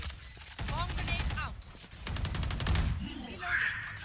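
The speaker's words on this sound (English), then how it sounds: "Placing swarm grenade." Swarm grenade placement in Valorant, a quick sequence of mechanical clicks and rising chirps amid gunfire bursts and game effects, with a voice speaking briefly over the action.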